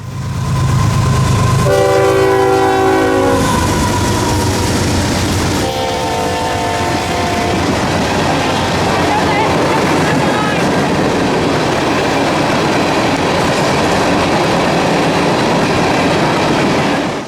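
A northbound train of empty ethanol tank cars rolls past at Folkston, Georgia, its horn blaring in several loud blasts over a steady, close rumble of wheels and cars.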